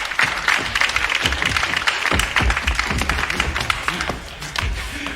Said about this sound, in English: one hand clapping against the other makes a very nice sound